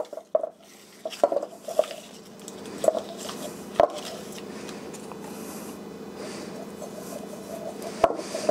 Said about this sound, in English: I'm going to rub that on the inside of this oven-proof bowl